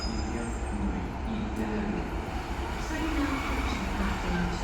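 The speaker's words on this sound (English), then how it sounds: "there's also down here a couple of Class 150s coming in as well" Class 150 diesel multiple units arrive at Cardiff Central station in a continuous mid-level rumble of engines and wheels under the station's echoing ambience, with no clear speech.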